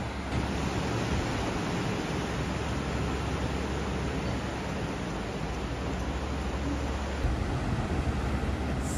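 Ocean surf rolls onto a Florida beach in a continuous, broad wash of noise at fairly strong level, with no voices.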